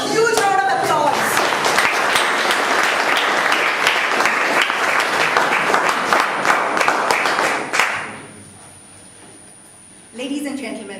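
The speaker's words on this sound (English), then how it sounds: "Give all of you a huge round of applause." A Toastmasters audience breaks into loud, dense applause with sharp individual claps that carries on for several seconds, fades out, and then a voice starts speaking near the end.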